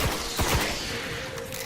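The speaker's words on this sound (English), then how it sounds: "there's too many things shooting at me" Enemy gunfire in the Destiny video game on PS4, a quick cluster of sharp shots at the start, then a busy, moderately loud background of combat noise.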